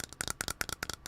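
Rapid light tapping on a Genshin Impact Sucrose figure, about a dozen close, crisp clicks in quick uneven clusters, heard alone without talk.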